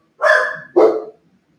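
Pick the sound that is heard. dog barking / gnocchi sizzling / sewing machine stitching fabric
dog barking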